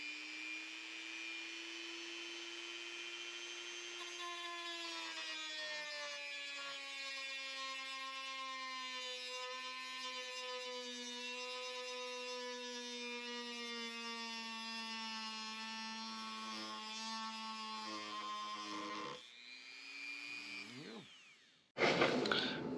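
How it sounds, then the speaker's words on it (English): A Dremel with a cut-off wheel cuts into teak salvaged from the Battleship North Carolina, a steady high-pitched motor whine holding for nearly twenty seconds before dipping and sputtering as the cut finishes, followed by a brief loud clatter. "we got the Dremel, and I'm just going to cut it off with a cut-off wheel."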